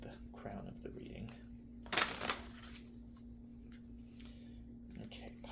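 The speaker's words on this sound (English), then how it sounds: "as I'm shuffling your cards" Tarot cards being shuffled during a reading, a soft papery riffle with a brief louder burst of card noise midway, close and quiet over a steady electrical hum.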